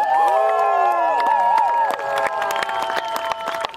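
A live audience at a storytelling show claps and cheers after the storyteller is introduced, with loud sustained applause, whoops and whistles filling the space and fading slightly toward the end.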